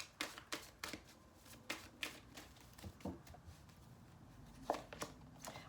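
Tarot cards are shuffled by hand to draw a bonus card. The cards give repeated crisp riffling snaps in an uneven rhythm, close and moderately quiet, with no voices over them.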